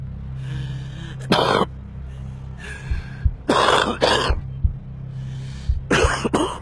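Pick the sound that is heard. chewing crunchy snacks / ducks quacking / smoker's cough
smoker's cough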